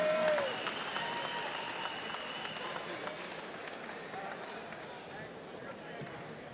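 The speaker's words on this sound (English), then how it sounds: "one more big round of applause for these 2 warriors here in the ring tonight" A boxing crowd applauds for two fighters in the ring, a sustained wash of clapping and cheering that fades slightly, with an announcer's voice over it at the start.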